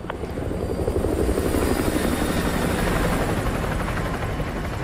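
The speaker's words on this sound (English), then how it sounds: "Chopper inbound, keep low." Helicopter in the Call of Duty Modern Warfare 2 campaign flying close overhead, its heavy rotor thump pulsing loud and steady throughout with no voices.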